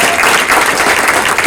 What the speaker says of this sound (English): let's applaud to our incredible student speakers who tonight represented kids.